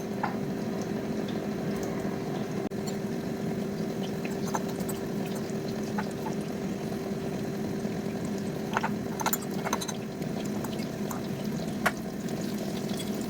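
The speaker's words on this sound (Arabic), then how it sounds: "الزيت سخنات ودغيا كيوجد" Breaded Kentucky-style chicken pieces fry in hot oil at home, making a continuous close bubbling hiss with scattered crackles and pops and no talking.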